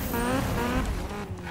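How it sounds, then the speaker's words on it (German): Race car engine in the Need for Speed racing game, a loud revving drone with rising harmonic pitch sweeps and a tire-squeal edge, heard close and continuous without talking. "Mann, das Auto hört sich ja gerade einfach nur zu geil an."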